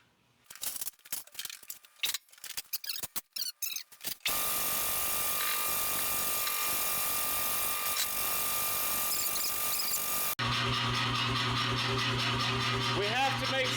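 A freshly cleaned and lubricated C41 power hammer starts up with irregular clattering knocks, then settles into a steady rushing mechanical noise before a humming motor drone takes over near the end.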